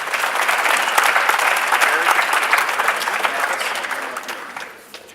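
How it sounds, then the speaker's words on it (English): An audience at a school district CTE recognition awards evening claps in a brisk burst that swells, holds, then tapers away over a few seconds. "So let's give him a round of applause."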